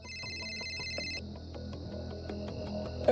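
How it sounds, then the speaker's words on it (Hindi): A telephone rings with repeated electronic bell tones, steady and fairly close, in a quiet room with no voices. "फोन बजने की आवाज।"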